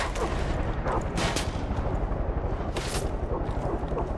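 Dense, noisy gunfire from an assault rifle in the Far Cry 5 video game, with rapid cracking bursts and booming impacts filling the scene with loud, continuous action noise.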